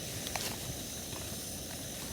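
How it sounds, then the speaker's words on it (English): Steady hissing roar of water boiling on a camp stove burner in deep snow and wind, continuous and close, with a few faint clicks on top. "Water's boiling."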